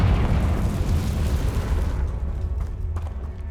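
A Confringo spell cast in Hogwarts Legacy bursts into a loud, sustained explosive rumble with heavy low boom that fades slightly toward the end, alone without talk.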